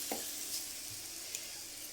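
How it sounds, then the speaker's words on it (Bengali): A paratha frying in a pan gives a soft, steady sizzling hiss throughout, quiet and close, with a couple of faint light clicks. "এখানে পরোটা ভাজছে"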